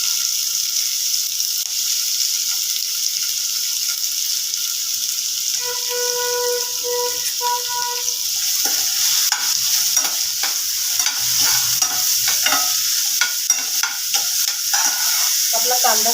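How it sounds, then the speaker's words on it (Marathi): Chopped onion drops into a pan of crackling cumin in hot oil, bringing a steady sizzle and frying hiss with brief clinks and stirring scrapes; the cooking noise runs continuously and up close throughout. "जिरे तडतडलं का लगेच कांदा टाकायचा."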